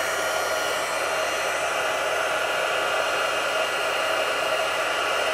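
Heat embossing tool blowing hot air steadily for the whole stretch, a constant loud whooshing hiss like a hair dryer with no breaks or talk.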